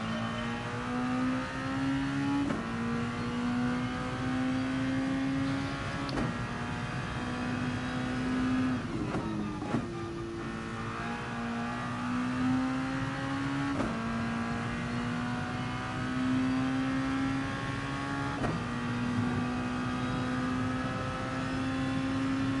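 Race car engine in a racing game at Monza, driven flat out. It revs up repeatedly, with sharp drops at each gear change followed by a climbing whine, loud and continuous with no talking.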